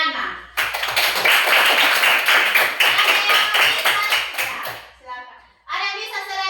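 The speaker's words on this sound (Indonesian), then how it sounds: "tepuk tangan dulu buat ini Ciana." A classroom of children claps together during a lesson, a dense run of hand claps lasting several seconds that fades out, followed by a voice speaking.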